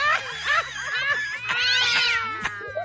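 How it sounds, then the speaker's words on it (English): A cat yowls and caterwauls repeatedly with rising, wailing cries, loud and close, over a steady rhythmic music bed on a radio morning show. "Some water on that cat."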